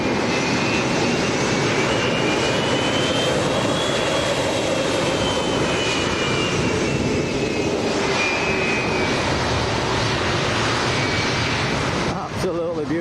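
An airliner's engines roar at Lanzarote Airport in a strong crosswind, a loud sustained jet rumble with a faint whine sliding in pitch, steady for the whole stretch before a brief disturbance near the end.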